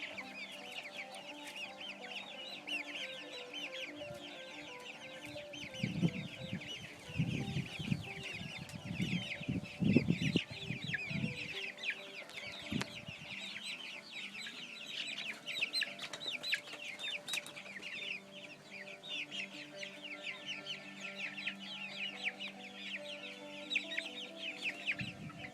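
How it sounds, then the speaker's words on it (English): Flock of about fifty chickens clucking and murmuring continuously at close range, overlapping soft calls with occasional louder squawks, steady throughout. "Chickens."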